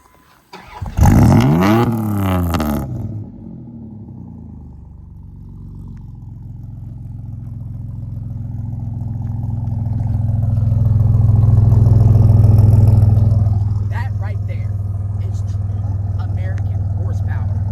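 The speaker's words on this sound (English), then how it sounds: "That was the startup of the vehicle" A Dodge Dakota cranks and fires up on loose gravel, a brief rattling starter whine giving way to a deep rumbling idle that swells briefly before settling.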